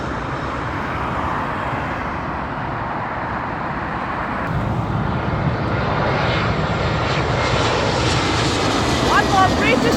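A four-engine British Airways airliner lands at Heathrow, its engine roar steady and loud throughout and swelling slightly in the second half, with people talking over it.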